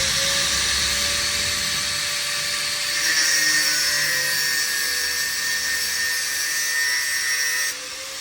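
A power grinder whines steadily as it cuts, a loud continuous high-pitched grinding that rises slightly midway and eases off near the end.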